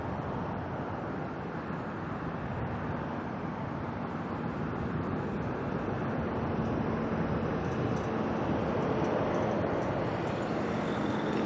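A Qantas airliner arriving from Sydney at Auckland Airport, heard as a steady, broad jet-engine roar, distant but continuous and fairly loud, with no voices over it.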